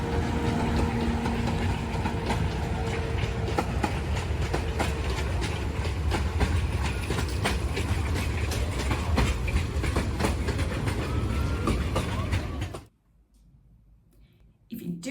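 A passenger train bound for Iguazú Falls in Argentina rumbles along with a steady rhythmic clickety-clack of wheels on rail joints. Faint voices sit beneath the noise, and the sound cuts off abruptly near the end.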